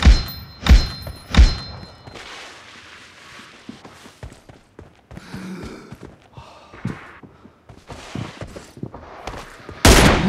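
Gunshots in the video game PUBG, a few sharp loud reports near the start and another at the end, with scattered softer thuds, clicks and footsteps between them.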